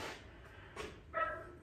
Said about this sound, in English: Oh, wise, yappy dog.